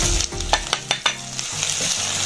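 Tomatoes land in a hot pan of frying bell peppers, giving a loud, close sizzle with several sharp scraping stirs in the first second before a steadier hiss takes over.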